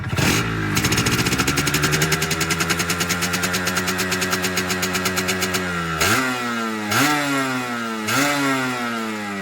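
A Yamaha RXZ motorcycle with a catalyzer exhaust idles with a fast, popping two-stroke burble, then revs sharply three times, each blip rising and falling, heard close and loud.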